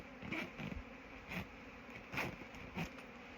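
Honey bees kept by beekeepers buzz steadily at low level, with a few louder passes as individual bees fly close by.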